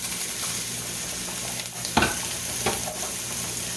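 Butter and about a tablespoon and a half of olive oil melt in a pot, a continuous soft sizzle with a couple of short crackling spurts over a low steady hiss.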